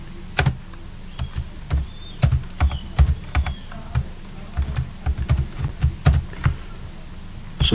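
Close, clattering keystrokes on a computer keyboard while Excel VBA code is entered, coming in quick irregular bursts with short pauses across the whole stretch.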